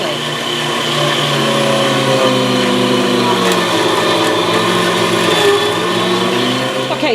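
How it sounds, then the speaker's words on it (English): A Sam Bear meat grinder whirs steadily as it grinds strips of trimmed meat for rendering lard, its loud, even motor hum running unbroken from start to finish. "But we've got this lovely Sam Bear grinder here, so that's what we're going to do."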